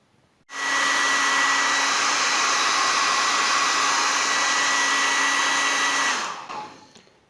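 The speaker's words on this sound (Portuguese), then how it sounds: "às vezes dá para usar um secador de cabelo para secar mais rápido" A hair dryer drying an ink wash painting switches on, blows with a loud, steady whirring roar for about six seconds, then powers down and winds off; no voices.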